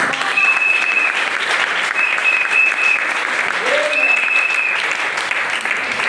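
A church congregation applauds steadily and loudly throughout, with voices calling out over the clapping.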